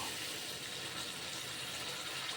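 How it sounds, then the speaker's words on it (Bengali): Water pouring steadily into a pan of pointed gourd and chana dal curry, a continuous close gushing splash lasting a couple of seconds with no talking. "এবারে আমি জল দিয়ে দেব।"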